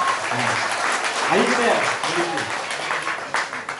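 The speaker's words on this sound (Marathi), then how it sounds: "टाळ्या वाजवा जोरात पप्पांचं." An audience claps steadily at a public speech event, producing a continuous wash of applause for several seconds while a voice briefly talks over it.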